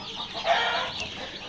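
Two-day-old layer chicks at a hatchery, a brief burst of high, thin chirping from close by, one peep rising above the rest.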